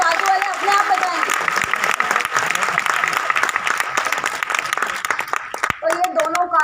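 An audience claps loudly and steadily at an event in Dadar. A voice speaks briefly before the applause starts, and talk resumes after it fades.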